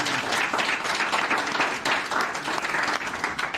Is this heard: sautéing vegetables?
no